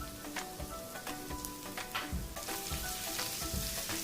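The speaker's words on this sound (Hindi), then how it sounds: "इसे 1 मिनट के लिए सौटे करेंगे।" Whole red chillies and ginger paste sizzle and spit in hot oil for a dhaba-style dal tadka, a close, steady frying crackle with stirring scrapes and sharper pops, continuous for a few seconds with no talk.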